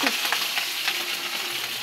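Eggplant sautéing in a hot pan, a steady bright sizzle with faint stirring scrapes, close and fairly quiet with no voices.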